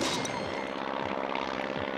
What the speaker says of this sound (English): Airplanes over through.